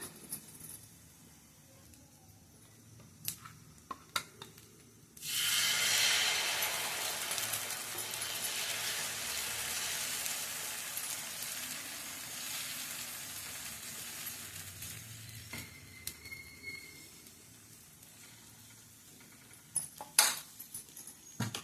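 Wheat dosa batter with onion is poured onto a hot griddle and breaks into a loud, steady hiss. The sizzle slowly fades over many seconds, with a few utensil clinks before and after it.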